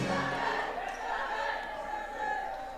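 An arena crowd at Carew Hall sings a song during a varsity basketball game, Vineland vs Olma; the massed voices echo through the gym in a continuous, reverberant wash.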